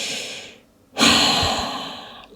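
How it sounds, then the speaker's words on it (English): Slow, deep breathing held in a resting yoga pose: a long exhale fades out, a short silence follows, then a loud close inhale rushes in and slowly trails off. "Take a couple of breaths here."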